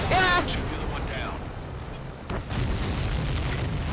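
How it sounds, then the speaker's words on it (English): A supply ship blows up after a missile hit in the Ace Combat 7 video game, a loud rolling boom that fades into a sustained rumbling roar, with a second burst partway through and voices talking over it. "Did you see that explosion?"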